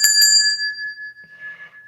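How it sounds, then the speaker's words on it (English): A single bright bell strike rings out clearly and decays slowly in a long, pure sustained tone, with a faint brief rustle near the end. "Let me ring the bell on that."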